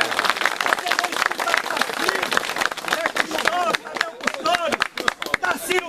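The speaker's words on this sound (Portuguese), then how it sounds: "Uma salva de palmas." A crowd claps and cheers outdoors at a flag-pole cutting festival, dense applause running throughout under an announcer's voice.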